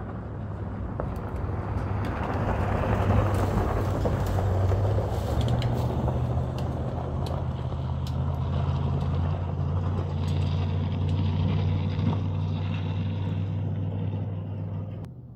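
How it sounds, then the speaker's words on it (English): A car approaching and passing on a road in South Central Alaska, a low rumbling engine and tire roar that swells, holds near for several seconds and slowly fades. "There's a car coming."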